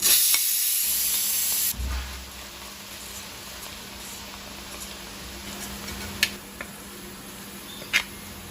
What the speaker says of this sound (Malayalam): നമുക്കിനി ഈ ഉള്ളി ഇതിലോട്ട് ഇട്ട് കൊടുക്കാം വറുക്കാനായിട്ട്.